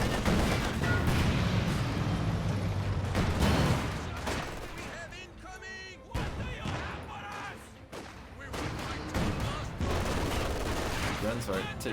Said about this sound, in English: Mortar though opening up.